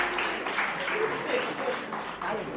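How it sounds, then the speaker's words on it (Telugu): Wedding guests clap in a brief, dense burst of applause, steady and close, with a voice speaking over the clapping. "అందరూ చప్పట్లు కొట్టండి"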